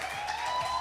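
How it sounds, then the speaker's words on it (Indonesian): Brief burst of audience applause for a performer at the grand final of a music festival, steady and moderately distant, with no voices over it. "Tepuk tangan untuk Olivia"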